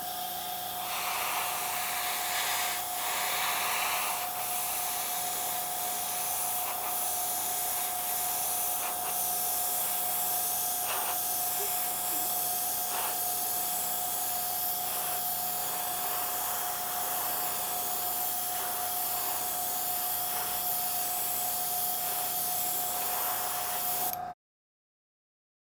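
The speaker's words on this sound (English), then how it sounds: "I'm just kind of blowing any dust off. I'm not shooting any paint, I'm just kind of blowing it." An airbrush blows a steady stream of air with no paint to clear dust off a Tamiya 1/48 F-14A model kit, a continuous close hiss lasting about 24 seconds before stopping abruptly.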